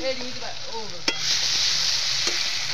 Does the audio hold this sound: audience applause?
no